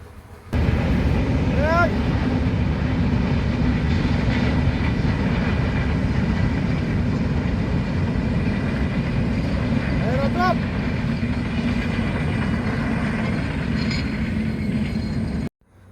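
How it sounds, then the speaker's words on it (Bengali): A train rumbles past in the distance through rural village countryside with a low, continuous rolling drone, and a couple of brief whistle-like squeals rise above it while someone speaks. "সেটা চলে যাচ্ছে বিকেলের ট্রেন এটা"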